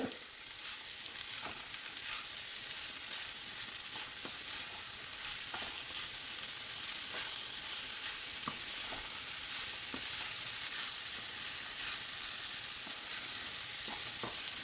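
Grated beetroot thoran fries over a full gas flame with oil, mustard seeds and urad dal, giving a steady close sizzle broken by scattered clicks and scrapes of a spoon stirring through the pan.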